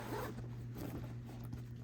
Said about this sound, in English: Now, if I want to, I can just zip this right on up.